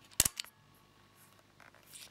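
A Nikon F4 35mm film camera fires a single frame: one crisp, close mechanical shutter-and-mirror clack, followed by a softer small click, then near silence.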